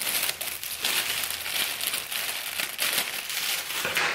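Gift basket cellophane wrapping being cut and handled, giving close, continuous crinkling and rustling with repeated bursts of crackle and no speech.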